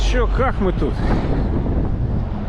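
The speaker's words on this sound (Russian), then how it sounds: "ветрище такое" Strong wind buffets a microphone outdoors in cold, wet weather, a constant loud low roar running under someone speaking Russian.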